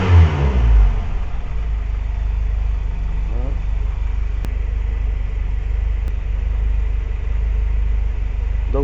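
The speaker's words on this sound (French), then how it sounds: "on va enlever le starter en accélérant un bon coup" A Renault 17 TS engine with a Weber DARA carburettor is revved hard to clear the choke, a loud rising burst at the start that settles into a steady mid-pitched running drone with a brief second blip.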